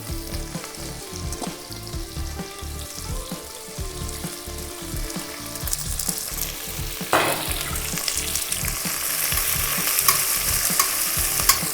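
Thick-sliced onions frying in spiced oil for peas pulao, a close, steady sizzle broken by repeated spoon strokes and scraping, the hiss growing louder toward the end.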